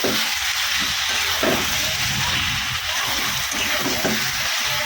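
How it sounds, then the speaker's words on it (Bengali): Meat stock from boiling is poured into meat frying in oil that is nearly done, raising a loud, steady sizzling hiss, close up and continuous with no talk. "এই যে তার সেদ্ধ করে যে স্টকটা বেরিয়েছে ওটাই দিয়ে দেবো ওর মধ্যে"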